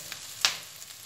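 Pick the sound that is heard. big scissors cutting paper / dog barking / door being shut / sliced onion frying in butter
sliced onion frying in butter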